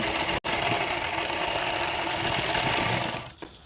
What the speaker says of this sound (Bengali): এইভাবে পট্টিটিকে বসিয়ে উপরে আমি সেলাই দিয়ে দিব